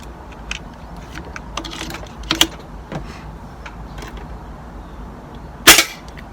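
A DRS air rifle firing pellets gives one sharp, loud crack near the end, preceded by an earlier smaller report and scattered light mechanical clicks from handling.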